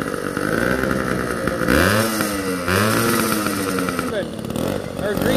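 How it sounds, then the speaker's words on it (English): A little two-stroke engine revs nearby in rising and falling bursts, with people talking over the buzzing whine. "Little two-stroke."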